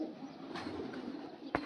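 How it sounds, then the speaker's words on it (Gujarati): Pigeons cooing softly in a farm field, a low murmuring coo that runs throughout, ending in a sharp burst of wing flaps as birds take off nearby. "ને આ કબૂતરા જોઈ લો કેટલા બધા છે"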